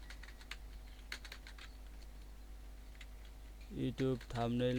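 Computer keyboard being typed on to enter a search: a run of light, irregular key clicks at a quiet level, followed near the end by a person starting to speak.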